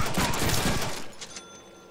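Rapid bursts of gunfire from the Deadpool video game, a dense volley of close, loud shots for about a second before fading into quieter trailing echoes.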